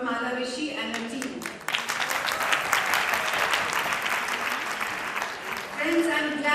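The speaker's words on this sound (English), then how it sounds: "A big applause for Mala Rishi and her team." At a club district assembly, an audience breaks into dense, sustained applause for several seconds, loud and steady. A speaking voice is heard at the start and again near the end.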